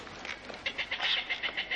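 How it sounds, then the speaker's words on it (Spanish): Seabirds on the Galápagos Islands give a rapid series of short, repeated calls, fairly soft and pulsing in quick rhythm with no talk. "Son las aves marinas quienes establecen esa crucial conexión."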